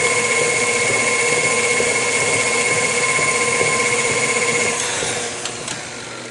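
A stand mixer whirs steadily, blending a cream cheese ice cream base in a bowl, a loud constant motor hum that drops slightly near the end, with no talking.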